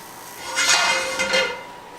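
A slightly heated cast iron skillet being handled, a couple of metallic clanks and scrapes of heavy iron against the stovetop, close and fairly loud, with no talking.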